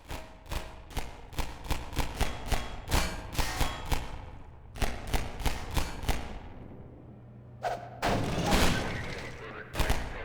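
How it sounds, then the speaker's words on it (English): Half-Life 2 gunfire, rapid bursts of sharp cracks repeating in quick rhythmic volleys, with a few short pauses and a final dense, longer burst, bullets whooshing past in a faked approach-and-departure effect. "We then play two different sounds at that point to fake a Doppler effect, one for the bullet's approach and one for its departure"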